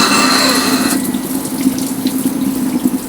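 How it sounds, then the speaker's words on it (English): Water runs from a hand-washing sink that refills the toilet tank in an off-grid Hawaii tiny-home treehouse, a steady close gush that thins to a softer trickling hiss after the first second. "It's refilling the tank above the toilet that will be used for the next flush."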